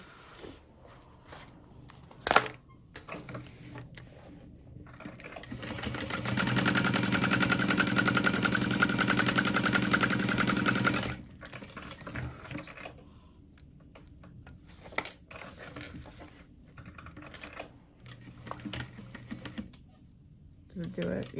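Industrial sewing machine stitching fabric in one sustained run of steady motor whir and rapid needle chatter lasting several seconds, with brief bumps and quiet handling before and after.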